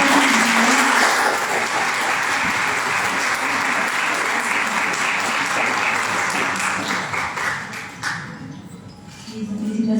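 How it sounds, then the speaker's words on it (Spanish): Audience applause at a municipal innovation workshop award ceremony honoring women mayors, steady sustained clapping from a crowd lasting about eight seconds before thinning out, with faint voices and a brief lull near the end. "Aplausos para los expertos."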